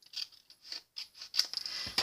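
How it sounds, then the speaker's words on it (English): Scissors trim overhanging paper on a handmade diorama gift tag, making several quiet, crisp snips and paper rustles close by. "Now's the time to trim a little bit off."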